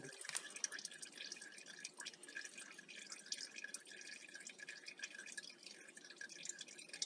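Used, black transmission oil drains from a gearbox in a faint, continuous trickle with soft irregular drips, quiet and close, with no voices.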